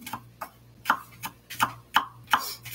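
A knife chopping food on a board in a home kitchen while hamburgers and garden tomatoes are prepared, giving about eight sharp, evenly spaced chops at a steady rhythm, close and clear over a faint low hum.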